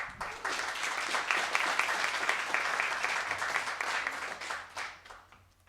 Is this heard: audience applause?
yes